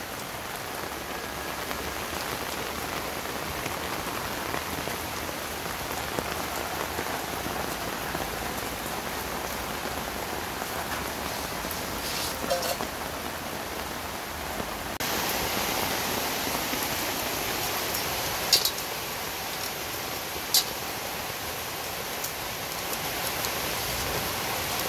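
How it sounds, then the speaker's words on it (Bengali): Heavy rain pours outdoors in a steady, dense hiss of drops striking surfaces, with a few louder drips standing out, going on unbroken for about twenty-five seconds without talk. "এই দেখেন কি বৃষ্টি পড়ে"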